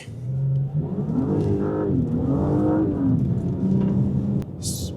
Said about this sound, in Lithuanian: Posūkyje sukteliu, spusteliu daugiau akceleratoriaus ir iš karto galas nori pabėgti.